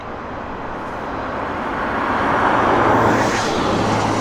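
A USAF KC-135 tanker arrives at Abbotsford, its broad jet roar building gradually and steadily, loud and continuous, with no one speaking over it.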